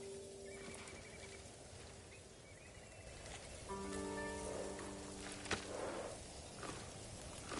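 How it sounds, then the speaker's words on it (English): A horse whinnies in a drawn-out, wavering call in Ghost of Tsushima, over soft rain and ambient wind, with faint hoof steps. "You're a good horse, Kage."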